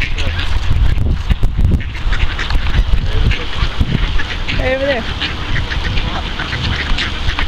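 Waterfowl honk and quack nearby outdoors, a few harsh calls rising over wind and shuffling noise while people talk throughout.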